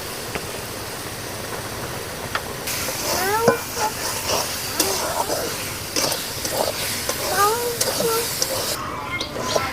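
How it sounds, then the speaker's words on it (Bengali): Karamcha pickle fries with turmeric, salt and sugar in a pan, giving a soft steady sizzle with intermittent scraping stirs and light clinks, close by. "হলুদ আর লবণটা দিয়ে আমার ভালো করে ভাজা হয়ে গিয়েছে, এবার আমি স্বাদ মতো চিনিটা দিয়ে দিলাম"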